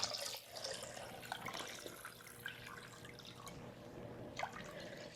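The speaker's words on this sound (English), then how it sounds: "I am going to pour in some more water." Water poured into a small DIY fountain made from thrift store items, a faint trickling and dripping splash that runs continuously with small irregular drops, heard up close.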